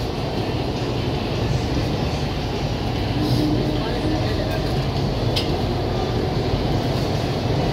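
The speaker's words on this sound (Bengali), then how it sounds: "মেট্রো ট্রেনটি হাওড়া স্টেশন ছেড়ে মহাকরণের দিকে রওনা দিল।" East West Metro train pulling out of Howrah station toward Mahakaran, a steady low rumble of the moving underground train that stays loud and even throughout, with no distinct announcements or horns standing out.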